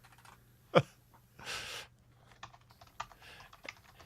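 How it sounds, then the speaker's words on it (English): Irregular clicks and taps of a computer keyboard being typed on, fairly faint, with a brief louder knock near the start and a soft rustle partway through. "I hear you typing"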